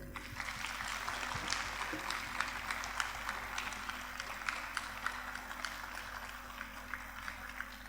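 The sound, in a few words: audience applause at event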